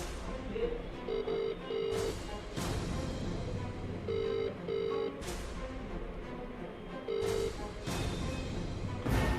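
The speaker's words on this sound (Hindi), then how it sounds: "हिमांशु, ज़रा चिराग को फ़ोन करना, पूछना कहाँ है।" Ringback tones sound while a phone call is being placed, with repeated paired electronic beeps broken by short gaps, set against background noise and occasional clatter.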